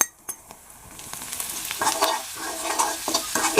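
Ground spices with fennel, coriander and salt go into a hot pan and are stirred: after a few soft clicks, a close sizzle builds and keeps going, with the scrape and rattle of a spatula.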